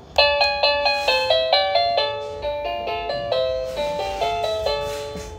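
A wireless electronic doorbell plays a string of bright chime melodies, quick successive notes ringing one after another, close and clear with no talking.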